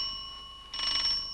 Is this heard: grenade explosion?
no